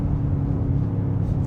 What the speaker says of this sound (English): the sound, sorry to disappoint, but it's not coming from the exhaust, it's coming from the speakers